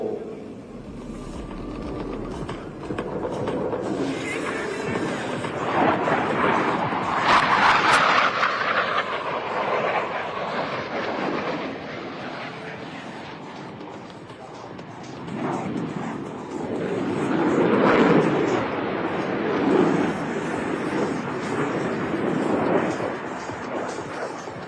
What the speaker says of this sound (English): they will roll their aircraft 360 degrees crossing over center point